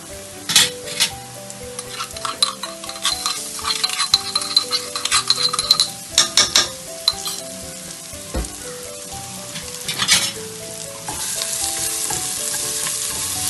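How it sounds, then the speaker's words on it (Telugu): Ginger garlic paste sizzles in hot oil in a pan at home, with close, repeated clinks and scrapes of a spoon stirring it, the frying hiss steady underneath. "సో ఇప్పుడు నేను ఏం చేస్తున్నానంటే దీంట్లో జింజర్ గార్లిక్ వేసేస్తున్నాను"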